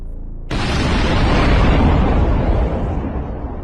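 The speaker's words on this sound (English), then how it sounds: "many more have been reported this massive explosion sound" A sudden, massive explosion booms in after a brief quiet, its deep roar rumbling on loudly and slowly fading over several seconds.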